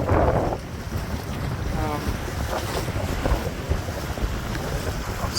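Wind spills off the mainsail of a Haines Hunter trimaran under way, making continuous gusty buffeting and rushing air against the microphone, with water noise underneath.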